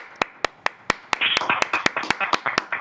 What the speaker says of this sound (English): We're going to clap for your dad.